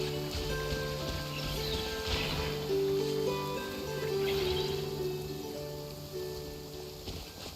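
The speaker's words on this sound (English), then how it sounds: "I like the rain." Soft rain in Genshin Impact falling steadily as a gentle hiss and patter, fairly quiet, with faint tonal game music running underneath.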